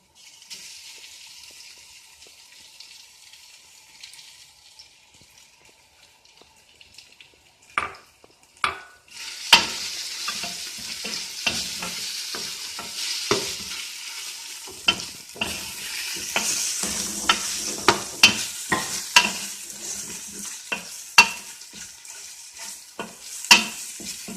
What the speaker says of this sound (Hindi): ये लहसुन प्याज मेरा फ्राई है